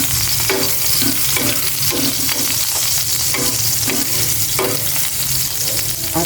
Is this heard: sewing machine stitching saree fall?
no